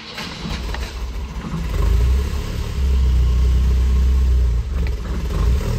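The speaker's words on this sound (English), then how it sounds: "Start the car up." An Opel 1900 Showroom Stock sedan on a dynamometer starts and settles into a loud, steady idle, with the low engine rumble swelling and dipping slightly as it runs.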